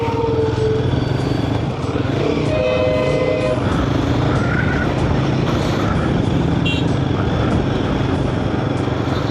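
A Royal Enfield Guerrilla motorcycle being ridden, its engine a loud continuous drone with wind noise and brief tonal rises as revs change, heard close up throughout.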